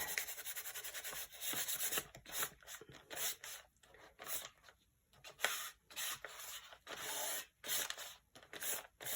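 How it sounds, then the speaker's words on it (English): Sandpaper scuffing a shiny craft embellishment, close rhythmic rubbing strokes, some long and some short, separated by brief pauses, quiet and with no speech. "I'm also going to add a little bit of sandpaper just to scuff it up."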